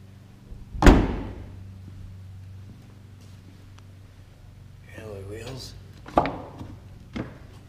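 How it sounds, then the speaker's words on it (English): A Buick Verano's trunk lid pops open with one sharp, loud thunk near the start, followed by quieter rustles and a couple of faint knocks around the car. "I popped the trunk."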